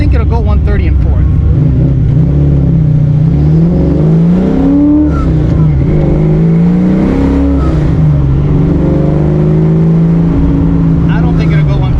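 A 1989 Notchback car with a manual clutch and carburetor trouble drives, its loud, close engine droning steadily and rising and falling in pitch as it revs through the gears.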